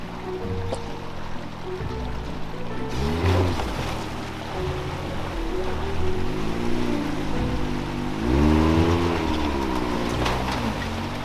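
A 1983 Toyota Trekker pushing through deep trail water, with churning, sloshing water and a rumbling engine that swells and surges in waves, steady and fairly close throughout.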